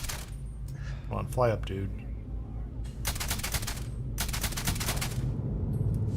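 Gunfire in Starfield, aimed at an enemy through a fence, comes as rapid automatic bursts of sharp, crackling shots in two long volleys, with someone talking briefly before them.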